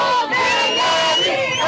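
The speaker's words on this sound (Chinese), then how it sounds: "现场响起闹热的欢呼声" Several hundred people in the plaza at the military headquarters in Tel Aviv cheer and shout as hostages appear on a big screen during a live broadcast, a dense, loud roar of voices throughout.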